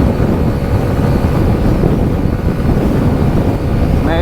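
A 2025 SYM Symphony SR 125 budget 125cc scooter held at full throttle on the road, a steady, loud engine drone blended with heavy wind rush across the microphone, unbroken throughout.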